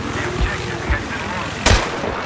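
A helicopter in Battlefield 3 multiplayer on PS3 gives a steady rotor drone under gunfire-like thumps and one sharp loud blast near the end, with game noise throughout.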